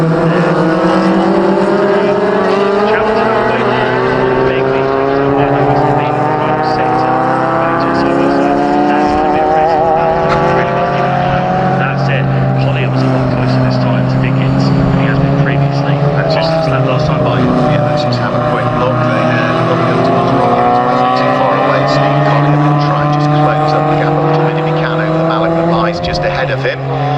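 Race cars scream around the Anglesey circuit in a club race, several engines overlapping with rising and falling pitch as they chase side by side, loud and continuous throughout while a commentator talks over them.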